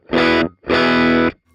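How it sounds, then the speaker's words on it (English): An electric guitar played through a Mammouth Machine Over The Top overdrive pedal, two loud, bright, heavily distorted chords, the first short and the second held for about half a second before being cut off. "A mess of overdrive and distortion and brightness too."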